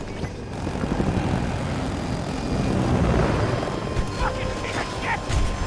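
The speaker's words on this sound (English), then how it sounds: "That jet sounds just pretty intense over there." A fighter jet roars past in the Battlefield 2042 video game, a broad, dense rumbling drone that swells and stays loud under game noise, with voices talking over it.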